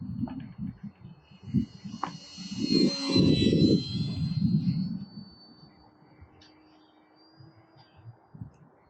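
An XFLY Glastar V2 RC plane flies on a sunny, breezy day, its high thin motor whine rising and fading across the sky as the aircraft passes, over wind noise and low rumble.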